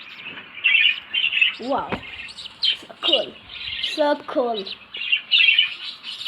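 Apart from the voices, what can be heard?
pet birds chirping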